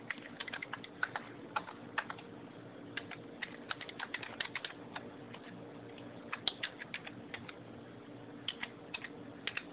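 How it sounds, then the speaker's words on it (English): Quiet keystrokes on a computer keyboard, irregular bursts of close soft clicks tapping out a username and password, with short pauses between runs and no voices. "we're going to go ahead and type in a username and a password at this time"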